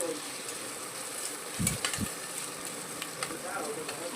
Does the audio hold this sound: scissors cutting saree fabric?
no